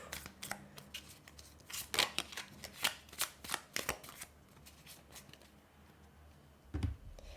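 A deck of tarot cards is shuffled close up, with quick riffling bursts and soft slaps in an irregular rhythm, fading to quiet before one last tap.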